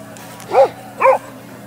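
A Boxer dog barks twice close by, two loud, even barks about half a second apart over a quiet background hum.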